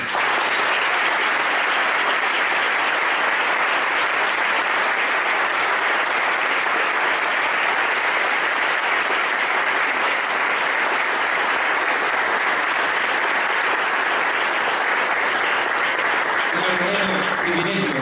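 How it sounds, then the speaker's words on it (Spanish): Sustained, loud audience applause at a Spanish-language religious program in Tegucigalpa, thick and continuous throughout, with a voice emerging faintly at the very end. "Un fuerte aplauso al Señor."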